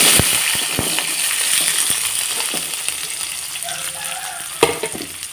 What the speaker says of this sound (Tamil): இப்போ நாம் இந்த சின்ன வெங்காயத்தை சேர்த்துக்கலாம்